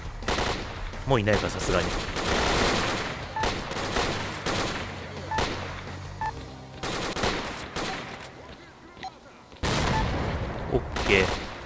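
Rapid bursts of gunfire in the video game S.T.A.L.K.E.R.: Clear Sky, loud and sustained with brief pauses, while a person speaks quietly over the shooting.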